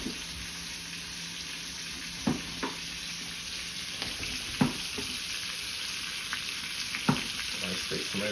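Bread crisping in a frying pan for a chicken sandwich, with a steady broad sizzle throughout and a few soft scrapes or taps now and then, close by.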